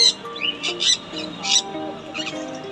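Conure birds at a pet market give harsh, repeated squawking calls in several short bursts, fairly close and mixed with other bird chatter.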